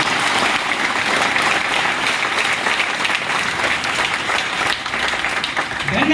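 A gathering honouring a girl from Mandana village erupts in loud, sustained applause. The clapping stays thick and unbroken, close and full for the whole stretch.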